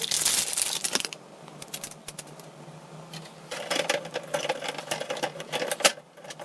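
Tricolor ink cartridge pushed into the carriage of an HP DeskJet 2900-series printer, giving a burst of plastic rattling and clicking at the start, then quieter handling and a further run of close clicks and crinkly knocks near the end.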